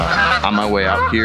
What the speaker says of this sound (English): You can hear the geese loving my presence behind me.